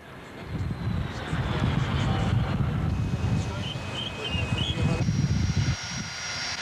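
An airplane engine drones steadily, rising and holding a loud roar, with faint wind noise.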